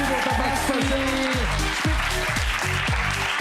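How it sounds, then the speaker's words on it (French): A theatre audience at a Quebec stand-up comedy show applauds loudly and continuously for comedian Evelyne Roy-Molgat, a dense steady wash of clapping, with a voice speaking over it. "Est-ce qu'on peut donner un tonnerre d'applaudissements à Evelyne Roy-Morgan, s'il vous plaît?"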